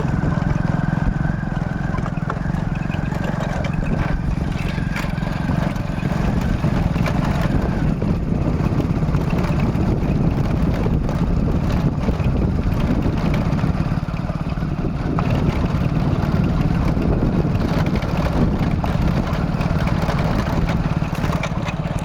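A motorbike rides along a rough concrete road between Dhampur and Pangidimaadhara, its engine droning steadily and loudly throughout with constant road and wind rumble.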